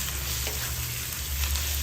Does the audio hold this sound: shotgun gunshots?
no